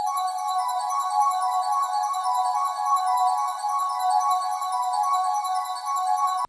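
An ambient arpeggiated pattern from an Exorcist Serum preset bank makes a steady, shimmering, bell-like ringing texture of high repeating tones, sustained and even at a fairly loud level throughout, with no voices, cutting off abruptly at the end.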